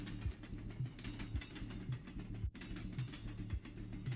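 A train rolls past in the Midnight Fight Express video game, a steady rumbling clatter with regular rhythmic clacks of wheels over rail joints, continuous and fairly loud, with a brief dropout midway.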